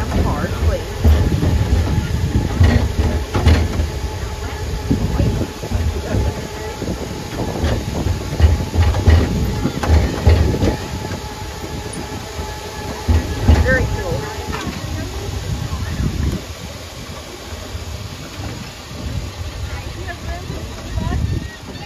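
A Coca-Cola sightseer tram rolls along at Wildwood Crest, its rumbling, clattering motion running steadily throughout while people talk over it.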